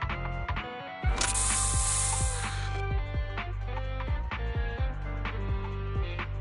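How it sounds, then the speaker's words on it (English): A special bamboo spray in the video game Zenless Zone Zero hisses in a loud, sustained burst lasting about two seconds, set over steady game music with mechanical clicks. "Here, have a taste of this special bamboo spray."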